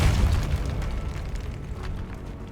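A Depulso spell blast in the video game Hogwarts Legacy lands as a loud, deep boom that fades into a rumbling low tail over a couple of seconds.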